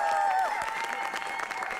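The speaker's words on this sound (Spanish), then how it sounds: "Un fuerte aplauso para los repentinos." Studio audience at a Spanish-language TV game show applauds as a contestant team is introduced, a steady wash of clapping with a bright sustained tone sweeping over it near the start.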